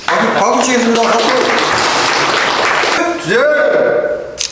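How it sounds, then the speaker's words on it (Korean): Audience applause at a meeting on construction workers in Korea, a short burst of clapping that runs under spoken voices and fades as talk resumes. "박수 치겠습니다."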